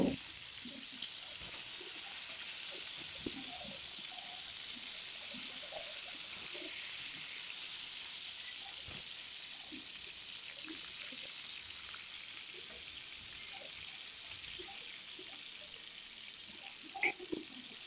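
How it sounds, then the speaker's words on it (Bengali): Rohu fish pieces frying lightly in hot oil, a faint, steady hiss that runs throughout with a few sharp pops and clicks as the pieces are turned, with no voices. "এভাবে ভালোভাবে উল্টে পাল্টে একটু ভেজে নেব।"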